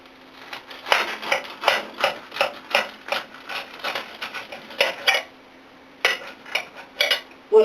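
Knife cutting through a deli sandwich on a board, a series of close, crisp rhythmic chopping taps spaced unevenly, with a brief pause before the last few strokes; a faint steady hum runs underneath.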